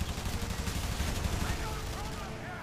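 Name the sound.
machine-gun fire from bomber rear gunners in IL-2 Sturmovik video game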